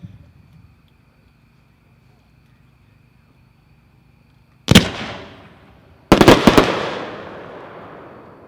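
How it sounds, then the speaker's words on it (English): A 7-shot instant slice white lace firework cake goes off with a single sharp boom, then after a pause a rapid cluster of loud bangs, each trailing into crackling decay against a quiet outdoor background. "Number 3 is a 7-shot instant slice,"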